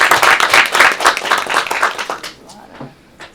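An audience at a board of trustees meeting claps in a dense burst of applause that quickly thins out, leaving a few scattered claps at the end.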